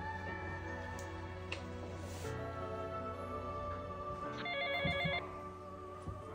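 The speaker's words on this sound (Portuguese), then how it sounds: "Espera só um pouquinho, eu vou ligar para eles." A telephone rings on an outgoing call, a steady tonal ringback heard faintly over a dramatic music bed, with no one speaking.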